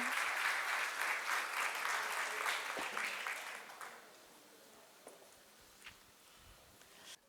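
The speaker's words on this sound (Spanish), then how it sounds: "le aplaudimos gozosamente" A conference audience applauding a speaker, with full, dense clapping for about four seconds that then thins out into scattered claps and quiet room noise.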